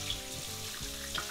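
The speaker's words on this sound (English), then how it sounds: "run cold water over them while you're peeling" Cold tap water running over potatoes as they are peeled, a short burst of steady splashing hiss with faint rubbing, close by and without talk.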